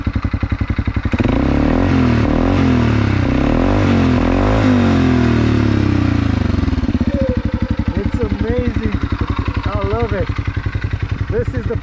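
A Segway Snarler AT5L ATV with a mild aftermarket exhaust idles and revs, a steady pulsing engine drone rising and falling close by, with a voice speaking over it toward the end.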